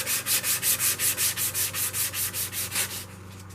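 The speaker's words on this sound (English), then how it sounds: "that went pretty well with the 220 grit sanding" Rhythmic back-and-forth strokes of 220 grit sandpaper rubbing wood, about a dozen even, close passes before the scratching stops.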